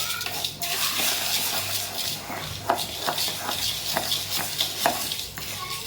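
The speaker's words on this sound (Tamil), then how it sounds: "இப்போ நல்லா மிக்ஸ் பண்ணி விட்டுக்கோங்க." A spoon stirs lentils around a pan, with repeated scraping and light clinks against the metal, close and steady.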